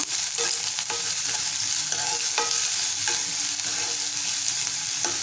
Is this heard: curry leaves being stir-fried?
yes